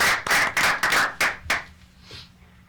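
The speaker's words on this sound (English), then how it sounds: "Please give her a round of applause." A small studio audience on a radio show claps for a cast member, a handful of bright, uneven bursts that fade out after about a second and a half, leaving a quiet room.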